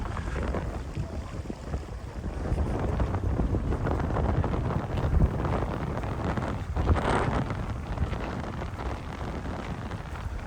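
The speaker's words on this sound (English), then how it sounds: "there is quite a bit of a stiff breeze from the west blowing" Stiff westerly breeze buffeting the microphone outdoors in a hilly dale, a constant loud low rumble with gusts swelling and easing throughout, no talk.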